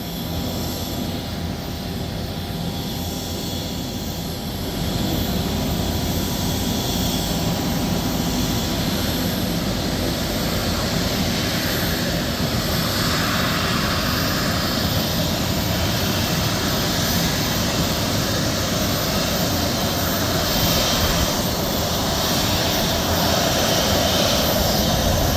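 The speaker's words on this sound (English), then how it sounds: "JetBlue taking off." JetBlue jet airliner on its takeoff roll, a broad continuous engine roar that grows slightly louder and holds steady for over twenty seconds at a distance.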